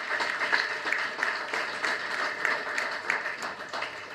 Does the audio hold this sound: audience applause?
yes